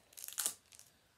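A foil wrapper on an NRL 2021 trading card pack tears and crinkles in a brief, faint crackle, a short rip followed by a softer rustle in a quiet room.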